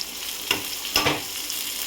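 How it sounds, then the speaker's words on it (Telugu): Large onions hit hot oil in a pan for a village-style prawn dish, a close, even sizzle with two brief stirring scrapes. "ఇది కొంచెం నూనె వేడెక్కిన తర్వాత ఆనియన్స్ అయితే వేసుకోవాలండి"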